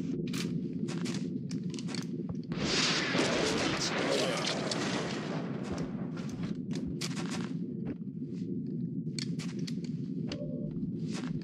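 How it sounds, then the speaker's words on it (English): Rockets launch and explode in a jungle warfare video game, with sharp blasts and a long rumbling barrage of impacts that swells mid-way, then scattered bursts of gunfire after. "Rockets away."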